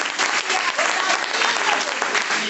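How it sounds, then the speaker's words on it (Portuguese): A congregation claps in praise during a church service, a loud, continuous crowd applause of many hands with no break across the short stretch. "no nome de Jesus, e as palmas louvam ao Senhor."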